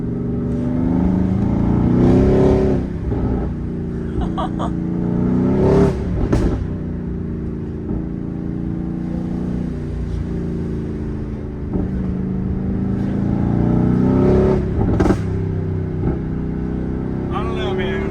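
Mercedes-AMG GT R supercar engine pulling hard through the gears, loud revving rises and falls with brief shift breaks, heard from inside the car with people talking over it.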